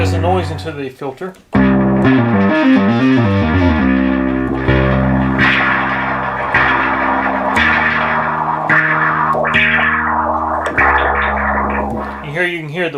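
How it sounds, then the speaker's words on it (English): White and pink noise from a restored duophonic Minimoog synthesizer, mixed with gritty, distorted synth tones and shifting filtered textures, loud and sustained throughout with no voices. "here you can hear the white and pink noise"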